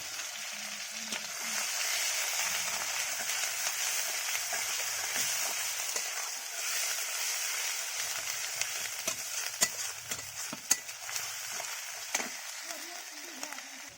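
Onion paste, garlic paste and chopped tomato fry in a wok with a steady close hiss and sizzle, scattered stirring clicks and scrapes, and a faint voice now and then.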